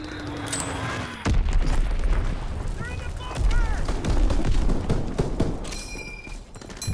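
Mortar fire in the Call of Duty WW2 multiplayer battle arrives as heavy booming thuds and scattered gunshots, a big blast landing close and further impacts rolling in, with game voices calling out over the din.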